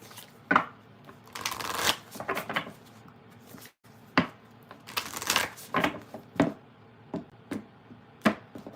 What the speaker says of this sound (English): Shuffle all the cards before we get there.